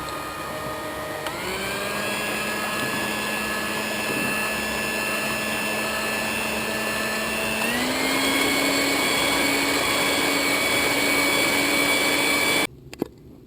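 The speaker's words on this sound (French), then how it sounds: "On monte ensuite les blancs d'œufs avec la pincée de sel." Egg whites with a pinch of salt being whipped by an electric mixer, a steady motor whine with bright harmonics running nonstop and rising slightly in pitch partway through, then cutting off abruptly near the end.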